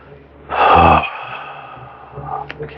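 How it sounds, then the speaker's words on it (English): A single deep inhale during a tai chi qigong breathing exercise, a loud, close, airy intake lasting about half a second, followed by quiet room tone and faint movement. "Breathe in."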